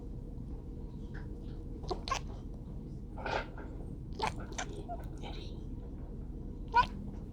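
A kitten gives a few short, faint meows during a vet-clinic blood draw from the neck vein, scattered over a steady low room hum with small handling noises.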